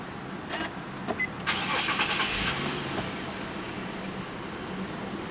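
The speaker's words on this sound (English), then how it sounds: "So let's go ahead and start it first." A 2011 Infiniti FX37 with a 7-speed automatic starts up. A short crank is followed by the engine catching with a rev burst, then settling into a steady, fairly close idle. No one speaks.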